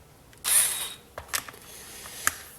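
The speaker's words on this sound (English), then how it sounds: "And my electric screwdriver." Electric screwdriver backing screws out of a wheel on a 12T Titan 550 brushed RC slash motor setup: a short high whirring burst, then a few brief ratcheting clicks and spurts, close and fairly quiet.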